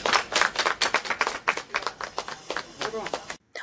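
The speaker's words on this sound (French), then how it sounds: "Applaudissez." Clapping from an audience after a handwashing demonstration at a hospital hygiene day event, rhythmic and fairly close with distinct sharp claps, with voices mixed in before it cuts off abruptly.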